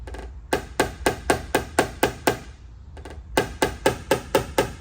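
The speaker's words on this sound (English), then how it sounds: "I need that hammer to just be bouncing by itself and without a whole lot of swinging" A PDR blending hammer bounces and taps on sheet metal in two quick rhythmic runs of sharp, evenly spaced knocks, about eight and then six strikes, separated by a short pause, close and clear with no talking.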